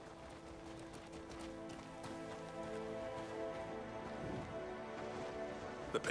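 Horse hooves clip-clop steadily in a video game, a moderately faint, even trotting rhythm running continuously beneath a layered ambient background.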